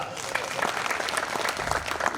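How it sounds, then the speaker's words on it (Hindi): An audience at a Hindi poetry recital (kavi sammelan) in Sukheda applauds steadily, with a busy, even patter of many hands clapping throughout the short span. "अगर कार्यक्रम सही में अच्छा हुआ, ताली बजा।"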